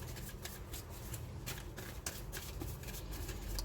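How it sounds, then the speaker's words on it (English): Tarot cards are shuffled continuously at close range, a soft, papery riffling with light rhythmic slaps throughout, quiet and alone. "let's get a card for Sagittarius, Sun, Moon, Rising, and Venus"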